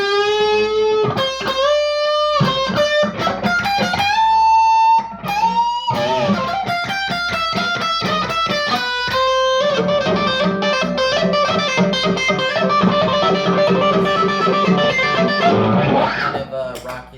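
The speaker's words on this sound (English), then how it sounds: "unlike the Sheridan, the Les Paul is just a little more brighter" Gibson Les Paul electric guitar played through a distorted rig with crisp, bright tone, first in loud individual notes and riffs, then in dense sustained chords, strong and continuous throughout.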